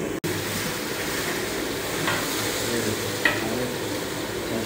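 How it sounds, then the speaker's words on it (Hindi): Onions frying in a pan with a steady close sizzle and hiss, occasional stirring scrapes and a faint clink. "ये फ्राई हो रही है, प्याज फ्राई हो रही है।"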